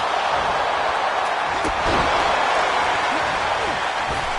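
A packed wrestling arena crowd roars in WWE 2K25, a dense, steady wall of cheering and shouting voices with scattered sharper yells rising through the din.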